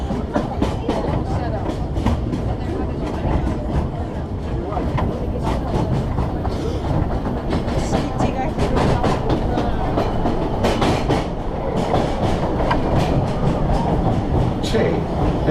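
A Disneyland Railroad holiday train rolls along its tracks with steady clickety-clack and rumbling wheel noise, continuous and close throughout.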